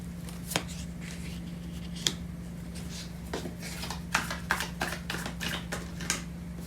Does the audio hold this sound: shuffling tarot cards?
yes